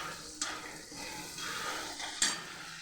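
Masala frying in oil in a pan: a quiet, steady sizzling hiss broken by a couple of sharp clinks of a utensil against the pan, with no talking.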